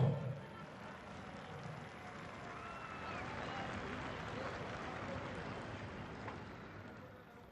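Spectators at an outdoor defence expo air show on a river front applaud in a wide, distant wash of clapping, with a loud burst at the start, faint crowd murmur and voices throughout.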